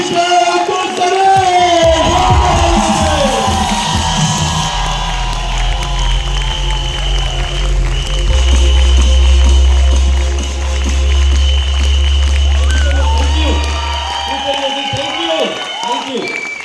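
A stage audience at a youth empowerment event gives loud applause with cheering and whoops, welcoming a speaker. The clapping swells and holds throughout, with crowd voices mixed in.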